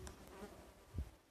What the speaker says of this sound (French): Je me fais attaquer par une mouche.